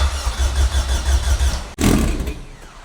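A turbocharged Honda Civic with a K-series engine swap cranks with a steady low rumble, breaks off briefly, then fires and catches into a loud, rough idle, close up and with no talk.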